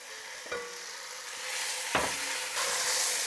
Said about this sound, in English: Now I will add the pork.